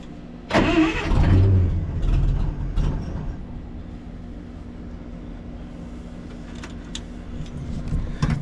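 A 1940 Packard engine cranks and catches with a loud burst, then settles into a low, quiet idle that keeps running steadily for several seconds, with a few faint clicks nearby.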